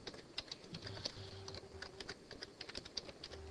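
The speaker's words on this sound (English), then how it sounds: "and then hitting the Enter key." Quiet clicks of a computer keyboard being typed on, a string of light keystrokes at an uneven pace closing with a firmer tap on the Enter key, recorded up close with no voices.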